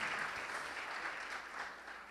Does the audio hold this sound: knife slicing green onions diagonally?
no